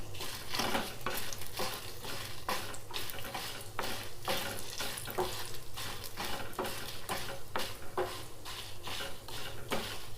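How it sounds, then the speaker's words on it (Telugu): Coriander seeds, cumin and dried red chillies fry in oil for an onion roti pachadi, giving a steady close sizzle with repeated scraping and stirring strokes of a utensil against the pan. "ధనియాలు జీలకర్ర ఎండుమిర్చి అన్నీ మంచిగా వేయించుకోవాలి."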